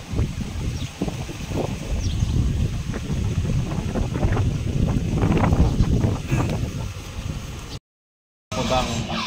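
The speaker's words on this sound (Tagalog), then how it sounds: "Hangin lang ang maririnig nyo. Sana naririnig nyo guys yung hangin." Steady wind buffets the microphone throughout at Sabsaban Falls, a continuous low rumble with gusty swells, briefly cutting out near the end before resuming.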